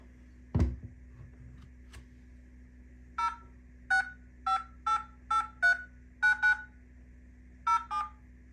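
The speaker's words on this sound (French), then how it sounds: "On va composer un numéro de téléphone et on va voir l'appel." A kids' smartwatch, the imoo Z3, sounds a series of short touch-tone beeps as a phone number is keyed in, about nine evenly spaced tones after a soft tap, close and clear against quiet.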